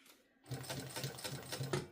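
A domestic sewing machine stitching an Acacia crossbody bag starts after a short pause and runs in a quick, steady mechanical whir with rapid needle clatter, close and moderately quiet.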